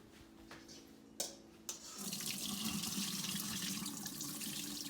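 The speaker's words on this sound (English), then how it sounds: "We're going to drain the sea moss." Tap water runs into a kitchen sink as sea moss is drained and rinsed, starting with a few clicks and splashes, then a steady, close, broadband rush of flowing water for the rest of the clip.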